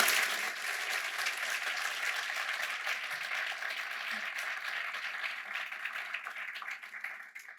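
Sustained warm applause from a large conference audience welcoming First Lady Dr. Jill Biden, a dense steady wash of many hands clapping that holds for several seconds before gradually thinning out at the end.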